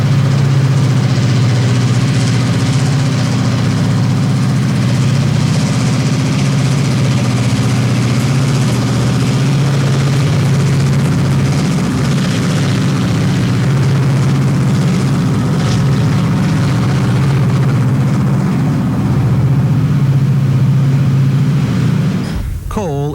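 Heavy EMD SD-series diesel locomotives, including SD38-2s, hauling a heavy train on the Bessemer & Lake Erie, a loud steady low engine drone sustained throughout with a rumbling roar and no pause.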